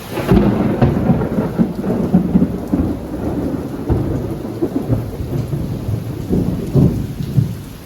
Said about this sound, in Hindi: तो ये हो रही है बारिश।